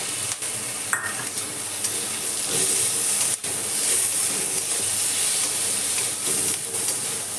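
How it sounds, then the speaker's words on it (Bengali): Tomatoes fry in a pan with cashews and raisins for a prawn malai curry. A loud, continuous hiss and sizzle runs throughout, with a few sharp clicks and scrapes of stirring close by, and no one speaks. "কাজু কিশমিশটাও আমার ভাজা হয়ে গেছে এই সময় আমি এখানে দিয়ে দেবো টমেটো"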